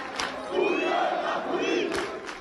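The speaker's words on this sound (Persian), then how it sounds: "علی کریمی را هم تشویق کرد." A football stadium crowd of Esteghlal supporters chanting and cheering for Ali Karimi, a massed roar of rhythmic voices rising and falling with sharp bursts, loud and continuous.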